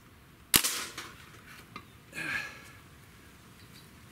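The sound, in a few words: shots from a Crosman DPMS full-auto BB air rifle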